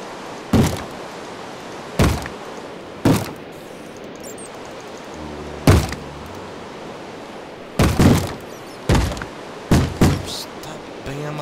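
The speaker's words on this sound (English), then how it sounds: "Stop banging on my door" Minecraft zombies bang on a door, loud, hollow thuds arriving at irregular intervals, sometimes in quick pairs, over a quiet background.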